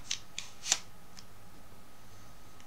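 A toy card slots into a Goseiger Sky Sword with a few quiet plastic clicks, one sharper snap near the middle of the insertion, heard close and faint against near silence.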